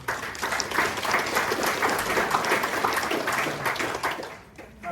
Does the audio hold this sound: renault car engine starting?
no